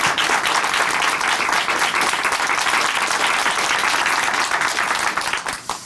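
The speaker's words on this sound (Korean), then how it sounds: "박수 부탁드립니다." A church audience at a Korean Christian testimony program gives a sustained burst of loud applause, dense and even throughout before tapering off in the last second.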